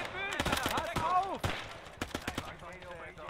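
Rapid gunfire bursts in the World War II game Gates of Hell: Ostfront, set in the invasion of Poland, crackling in quick clusters while excited voices shout over and between the shots.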